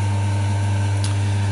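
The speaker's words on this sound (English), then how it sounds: "So you can hear that the RPC is going in the background." A rotary phase converter runs in a shipping container workshop, giving off a steady low electrical hum and drone with no change over the short stretch.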